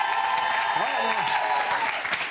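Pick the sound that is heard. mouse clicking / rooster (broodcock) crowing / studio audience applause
studio audience applause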